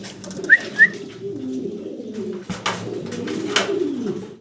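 Budapest pigeons coo in low, rolling murmurs that run steadily through the clip, with two brief sharp chirps near the start and a few soft rustles later.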